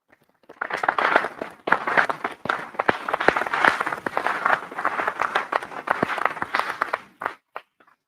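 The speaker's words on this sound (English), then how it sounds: "big rounds of applause for everybody that does get nominated, please" An audience at the Sport Tynedale Awards 2023 evening at QEHS Hexham applauds the nominees, a dense, steady burst of many hands clapping that swells quickly, holds for several seconds, then thins to a few last claps.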